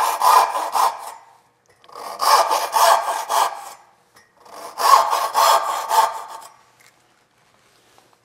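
A hand saw cuts dovetail pins in wood with three separate runs of rhythmic rasping push-and-pull strokes, each run a few strokes long with quiet pauses between, close and clear with no talking.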